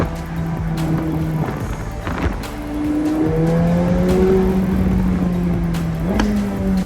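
A McLaren 765LT Spider drives the winding Tail of the Dragon road, its engine rising and falling in pitch through gear changes, loud and close, with brief revs and throttle lifts.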